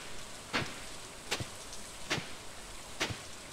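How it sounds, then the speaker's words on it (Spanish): Steady soft rain hiss falls over a farm in the video game Stardew Valley, broken by four sharp, evenly spaced tapping clicks from the game. "Lo bueno es que también está lloviendo."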